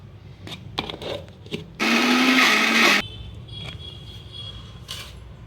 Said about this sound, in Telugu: ఒకసారి బ్లెండ్ చేసుకుందాం